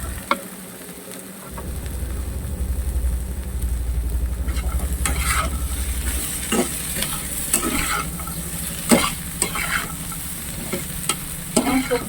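Vegetables (potato and okra) sautéed in a pan over a high gas flame, a low roaring burner under a steady sizzle, then repeated scraping stirs of the spatula, close and loud, without talking.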